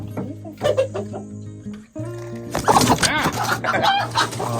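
Hens and a rooster clucking close by on a farm, a run of short calls that drops out briefly, then returns louder and busier over a steady low hum.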